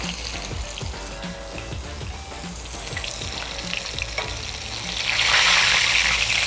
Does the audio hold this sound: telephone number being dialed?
no